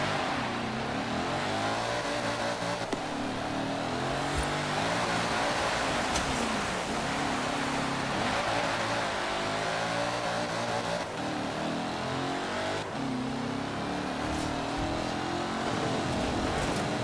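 In Forza Horizon 4, a Land Rover SUV engine drones loud and close as a continuous, throaty roar that rises and falls with throttle changes and shifts, with no voices.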